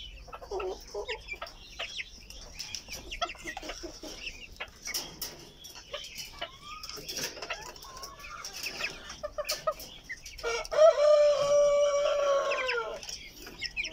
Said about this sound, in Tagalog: So ganyan po kalakas kumain ang mga alaga kong manok dito